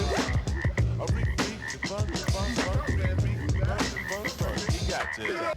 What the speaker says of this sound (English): frog sample